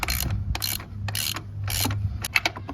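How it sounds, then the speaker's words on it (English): A ratchet with a 22 millimeter deep socket tightens a PCV valve on a 2002-2006 Toyota Camry 2.4L, giving several short bursts of quick metallic clicking separated by brief pauses, close and fairly quiet. "you grab your 22 millimeter deep socket on a ratchet, of course, and you just start tightening up"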